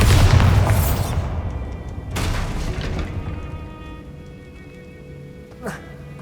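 A Bombarda blast spell in the video game Hogwarts Legacy bursts loudly at the start, then a second heavy boom follows about two seconds later, with rumbling decay and a brief sharp hit near the end.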